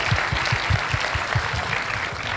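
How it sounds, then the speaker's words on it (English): Audience applause after a startup founder is introduced on a main event stage, steady dense clapping filling the whole stretch at close range with no voices over it. "So a very big round of applause, guys."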